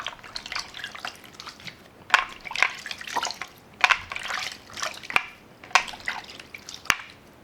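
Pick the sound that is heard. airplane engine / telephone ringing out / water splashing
water splashing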